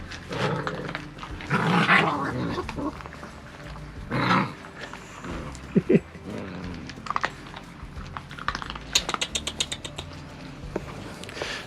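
Puppies on a farm play rough, letting out bursts of growls, snarls and yips in scattered outbursts, with scuffling and a short run of rapid sharp sounds near the end, fairly close.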